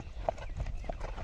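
Hooves of a desi mare being trained for show jumping clop in an uneven rhythm close by, mixed with low rumbling and a faint voice in the background.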